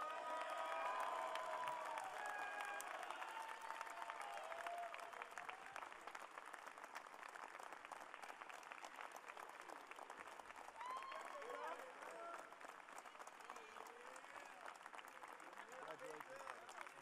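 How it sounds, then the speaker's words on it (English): An audience at a 2016 UCLA student-athlete graduation ceremony applauds award winners, sustained dense clapping with some cheering that fades slightly over time, with voices mixed in. "Let's have a big round of applause for our award winners this evening."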